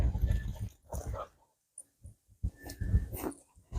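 Dogs whine and whimper outdoors near a hilly creek-side homestead, several soft, breathy bursts with pauses between them, fairly close and with no talk.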